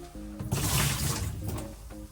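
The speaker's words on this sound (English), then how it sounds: "I pour just a little bit in the sink here, a little bit in the shower." Liquid poured into an RV sink drain, a short splashing gush lasting about a second and a half, close by, with a faint steady hum before and after.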